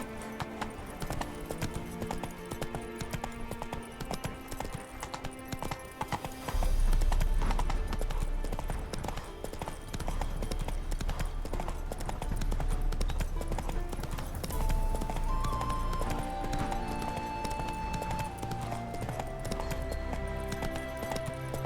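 Roach the horse galloping in The Witcher 3, rhythmic hoof clip-clops running steadily throughout, joined by a deeper rumble midway, with a game music score and ambient sounds layered underneath.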